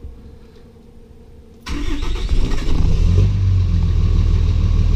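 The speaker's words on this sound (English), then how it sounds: "So we're going to start the truck now." A 3rd Gen Cummins diesel pickup truck cranks and fires after a fuel filter change, jumping from quiet into a loud, close, rough idle that settles into a steady rumble.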